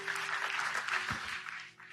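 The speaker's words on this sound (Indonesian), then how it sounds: "Beri tepuk tangan buat Allah kita." Congregation applauding during a night prayer service at GSJS Pakuwon church, a brief burst of clapping that swells and then fades, heard over a faint sustained tone.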